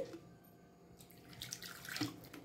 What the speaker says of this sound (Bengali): জল দিয়ে মিক্সিটাকে একটু ভালো করে ধুয়ে এটাকে এখানে দিয়ে দিচ্ছি